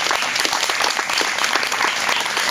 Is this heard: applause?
yes